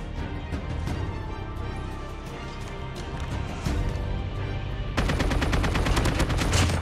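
Rapid bursts of AK-47 automatic fire in Call of Duty Mobile rattle on loud and close with no voices. A denser, harsher volley kicks in for the final couple of seconds.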